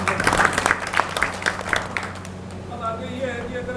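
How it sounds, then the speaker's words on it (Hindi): Audience applause at a BJP district party meeting in Bhadra: a brisk burst of clapping that thins out after a couple of seconds, leaving scattered claps under a murmur of voices. "एक बार तालियां बजा।"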